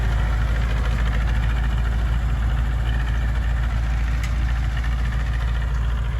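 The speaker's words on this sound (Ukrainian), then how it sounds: "Тракторець поїхав." Small tractor engine pulling away in a potato field during spraying, a loud, steady, close mechanical rumble with deep vibration that holds evenly throughout with no pauses.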